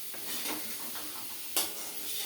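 Baby potatoes coated in spice powder sizzle while being stirred in a pan, a soft steady frying hiss with a few spatula scrapes and one sharper clack of utensil against the pan near the end.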